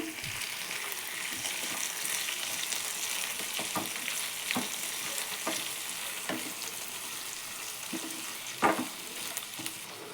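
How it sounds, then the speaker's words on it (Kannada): Chopped farm tomatoes and onion fry in a pan with a soft, steady sizzle, broken by occasional light stirring clicks and one louder knock near the end. No one speaks. "ಟೊಮೊಟೊ ಸ್ವಲ್ಪ ಮೆತ್ತಗಾಗೋವರೆಗೂ ಚೆನ್ನಾಗಿ ಫ್ರೈ ಮಾಡ್ಕೊಳ್ಳಿ."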